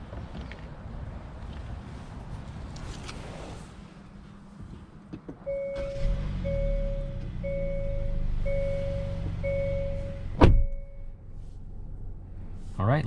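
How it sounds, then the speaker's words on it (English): A 2022 Hyundai Santa Fe SEL SUV heard from inside the cabin: low engine and road rumble, then a run of evenly spaced electronic warning beeps, followed by a sharp thump. "All right, let's go ahead and take this Santa Fe on a test drive and see how it does."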